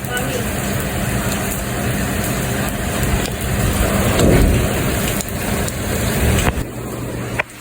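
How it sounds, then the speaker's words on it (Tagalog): Heavy rain pours down in a dense, steady hiss, with a low rumble swelling briefly and voices faintly under the downpour. "Biglang buhos lang yung ulan"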